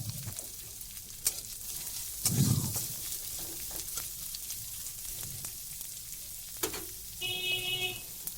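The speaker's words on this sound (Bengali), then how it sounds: "তাহলে পেঁয়াজটা নরম হয়ে তাড়াতাড়ি ভাজা হয়ে যাবে" Chopped onion and green chili fry in a pan with a soft, steady sizzle, broken by a few louder bursts and stirring clatters, close and alone without talk.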